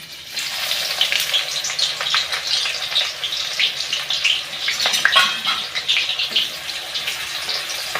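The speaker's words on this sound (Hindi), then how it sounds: "ऑयल गरम हो गया है, अब हम इसमें प्याज ऐड करेंगे।" A steady hiss and crackle of onions frying in hot oil, with irregular pops and sizzles rising and falling throughout.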